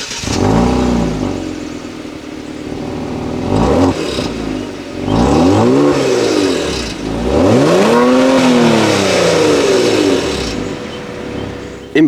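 A Genesis G70 3.3T twin-turbo V6 with rear-wheel drive revs in several rising and falling sweeps, loud and close. Between the pulls there are short lulls and a slight mechanical clatter.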